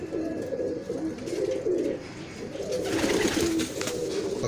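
Breeder pigeons in a loft in the old walled city of Lahore give soft, repeated throaty coos. Faint chirps and light background rustle sit behind them, with no talk.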